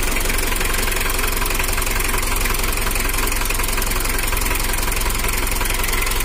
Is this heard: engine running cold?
yes